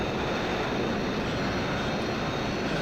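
The engine of a Lockheed U-2 Dragon Lady in Flight Simulator X drones as a steady, even jet roar with a constant broadband hiss, heard alone at moderate level with no change in pitch.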